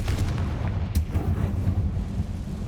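Confringo fire spell blast in Hogwarts Legacy, a deep rumbling boom with a sharp crack near the start over continuous low-end roar, loud and close, no voices.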